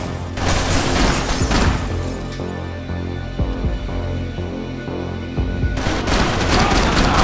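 Dense gunfire from a Max Payne 3 firefight, with rapid overlapping shots and booming blasts that keep going for most of the stretch, pause briefly, then resume loudly near the end.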